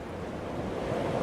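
Steady wash of flowing sea water and surf along a shoreline in the video game Dear Esther, a constant broadband rush at moderate level with no talk over it.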